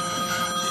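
A telephone rings briefly, a sustained bright electronic tone heard close and fairly loud with no talk over it.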